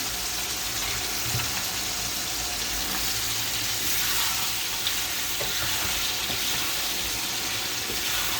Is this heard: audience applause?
no